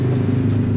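Car engine droning close by in the mobile battle royale game PUBG Mobile, a brief steady low hum with no voices over it.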